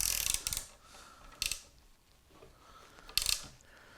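A small ratcheting tool clicks in three short, separated bursts while tightening a screw on 3D printed miniature train parts, close and fairly quiet.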